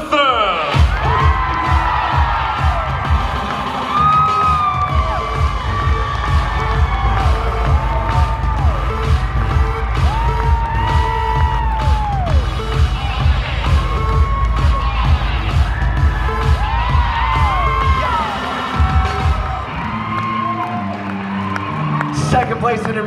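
A large convention crowd at a cosplay contest cheers, whoops and applauds loudly for a winner, a sustained roar of shouts and claps with children's high yells on top. The noise fades near the end as a voice begins to speak.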